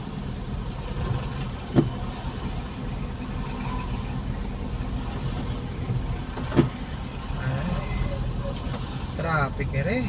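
Road traffic in rainy Benguet and Baguio, with car engines idling in a steady low rumble and a couple of brief knocks, while people talk nearby throughout.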